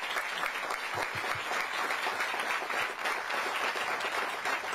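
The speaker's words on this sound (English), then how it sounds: "So a round of applause for those who've made Greenville what it is today." Crowd applauding outdoors at a groundbreaking ceremony for a new federal courthouse in Greenville, a continuous even roar of many hands clapping at moderate distance, sustained throughout with no speech.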